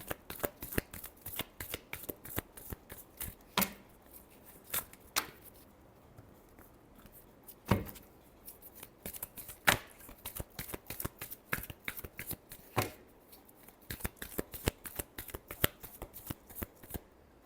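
Tarot cards being shuffled by hand in a long run of crisp riffles and slaps, some sharp, close and fairly quiet, with no voice over it.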